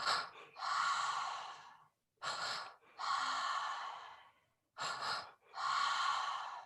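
Slow mouth breaths during a breathwork session: two quick inhales followed by one long, whooshing exhale out through the mouth, repeated in a steady pattern, close and clear against silence.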